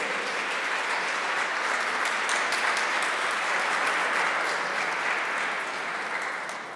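Steady, dense applause from an audience at an embroidery and weaving award ceremony, sustained for several seconds at even loudness and tapering slightly at the end.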